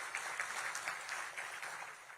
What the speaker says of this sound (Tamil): கைத்தட்டல்கள் மூலம் மனமார்ந்த நன்றியினை நாம் தெரிவித்துக் கொள்ளலாம்